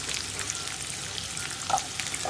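Ingredients for aval uppumavu, a beaten-rice breakfast dish, being stirred as they fry in a pan, a steady soft sizzle with light scraping and a few brief clinks, alone and at close range.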